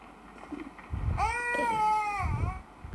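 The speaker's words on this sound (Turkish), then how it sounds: "Kedi var." A cat gives a long, drawn-out meow with a rising and falling pitch, close by, with faint low rumbling noise before and after.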